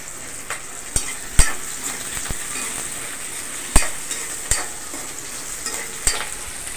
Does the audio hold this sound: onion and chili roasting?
yes